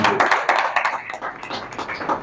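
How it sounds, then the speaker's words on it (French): Dense applause from an audience at a public talk by a senator, steady and fairly close, with many overlapping claps rising and falling across the short stretch. "Applaudissez très fort"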